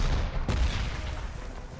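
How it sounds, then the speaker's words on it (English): Artillery fire in the strategy game Panzer Corps 2, a single heavy boom at the start followed by a rumbling, noisy tail that fades slowly. "A little bit of artillery support there should keep him well behaved."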